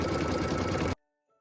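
An embroidery sewing machine stitches score channels on a Christmas ornament with a fast, steady mechanical whir that cuts off abruptly after about a second, leaving near silence.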